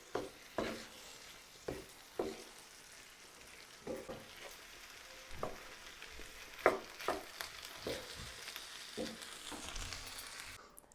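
Chicken pot pie filling simmering in its sauce in a pan, a soft bubbling sizzle broken by a series of regular stirring scrapes and taps, fairly quiet with no talk.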